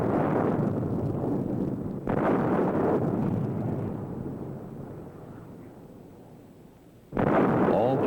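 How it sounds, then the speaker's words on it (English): A GSRS multiple rocket launcher fires a ripple of rockets at a test range, each launch a loud roaring blast with long rushing decay, three bursts in all, the last cutting in abruptly after a fading roar. "In the following ripple, the first 2 rockets were launched at a target 20 kilometers away"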